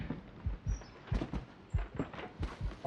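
A video game heartbeat sensor in Resident Evil 7 pulses in a steady, soft, low double-thump rhythm, repeating about five times, quiet and alone.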